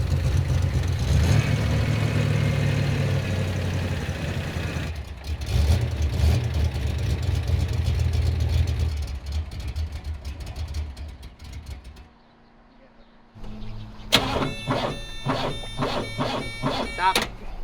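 A 1985 IROC Camaro with a freshly rebuilt 305 engine idles with a low, steady rumble that fades and dips near the end, then gives way to a sharp, rapid ticking burst.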